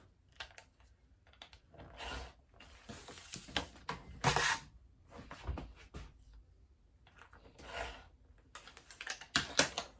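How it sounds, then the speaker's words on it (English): A rotary blade cutting fabric along a ruler makes a run of close, crisp clicks, scrapes and rustles in uneven bursts, with short quiet pauses between strokes and no talking. "I'm going to do that with my ruler and my rotary blade"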